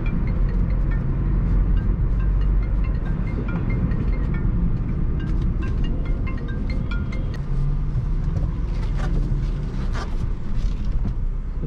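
A petrol Mitsubishi Cedia cruises in fifth gear through city traffic, its steady engine and road drone filling the cabin with a constant low rumble and no sharp changes.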